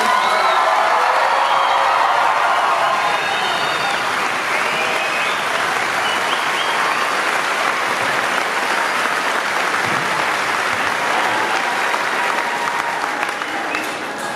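A large audience at a 2018 Genoa High School graduation ceremony applauds the graduating class in a dense, sustained wash of clapping with scattered cheers, fading slightly over about fourteen seconds.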